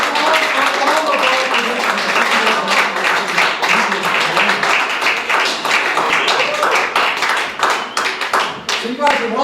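An audience at a magic show in Cincinnati claps steadily for nearly ten seconds, a dense, continuous round of applause from many hands in a theater.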